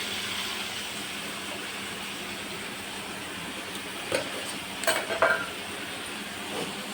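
Broad beans (chikkudukaya) fry in a pan with a steady, close sizzle throughout, plus a few brief clinks and scrapes of a utensil near the end.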